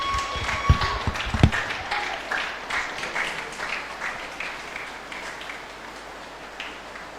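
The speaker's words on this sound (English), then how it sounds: "With a round of applause, let's introduce Mr." An audience at a career talk applauding a speaker's introduction, with a few louder claps and knocks at the start before a steady round of clapping fades gradually over several seconds.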